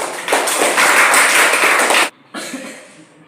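A group of people clapping in applause for a presenting group at a class or seminar, a dense burst of steady hand claps that stops abruptly, followed by a softer, thinner patch of clapping that fades out.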